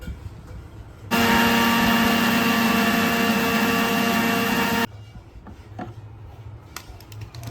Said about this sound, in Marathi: ते परत एकदा मिक्सरला लावतो